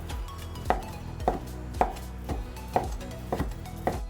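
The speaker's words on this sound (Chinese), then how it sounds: "洋葱切小丁， 午餐肉切小丁，" A knife dices onion and luncheon meat on a cutting board, about seven crisp, evenly spaced chops ringing out close up with nothing else heard.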